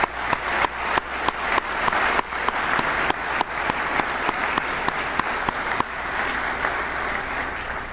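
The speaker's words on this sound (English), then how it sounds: "Let's give them a round of applause" Family and friends receive a long, full round of applause from a large audience at a dentistry white coat ceremony, with dense steady clapping and some sharper claps standing out throughout.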